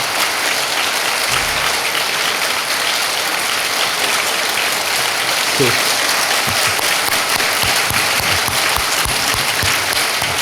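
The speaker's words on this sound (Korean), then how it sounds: "그 목사님 가족을 위해서 우리가 박수를 한번 할 만하죠?" A church congregation applauds the pastor's family during a worship service, with sustained, dense clapping filling the hall. A few louder voices and thumps break through toward the end.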